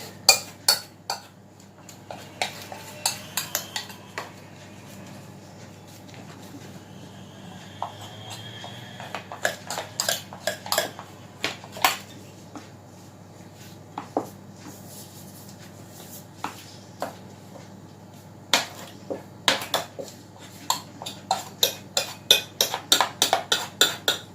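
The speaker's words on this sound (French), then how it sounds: "je vais prendre mon couteau pour couper le surplus" While baklava is made, a knife trims stiffening excess filo pastry, with scattered sharp clicks and taps of blade and utensils against a tray or dish, irregular and close, with no talk.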